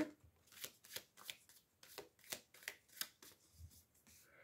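Oracle cards for a tarot reading are shuffled by hand in a quiet room, a run of about a dozen crisp riffling flicks in quick rhythm, close and fairly soft, with no voices.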